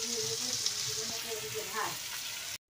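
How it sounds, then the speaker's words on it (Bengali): Carrots and capsicum frying in a home kitchen pan, a steady close sizzle throughout with a brief stirring scrape near the end. "এই তো সব ভাজছি, গাজর ক্যাপসিকাম ওগুলো ভাজা হলো।"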